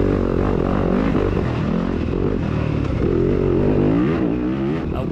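A 2021 Yamaha YZ250FX four-stroke dirt bike races at the Kingston scrambler, its engine droning loud and close throughout with rising and falling revs as it climbs and shifts.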